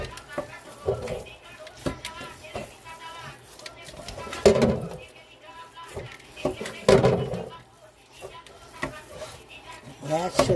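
Meatballs sizzling in a hot skillet, a steady frying hiss broken by clinks and stirring bumps, heard under ongoing talk.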